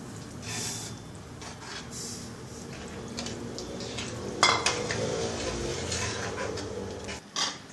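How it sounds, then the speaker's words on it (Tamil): Wet stirring and scraping as rice semolina is mixed into a pot of bubbling water, with metallic clinks and a steady simmering hiss throughout. "பாருங்க தண்ணி நல்லா கொதிச்சுடுத்து நம்ம வந்து அரிசி ரவையை போட்டு கலரிக்கலாம்"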